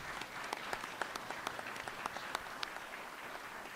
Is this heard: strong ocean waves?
no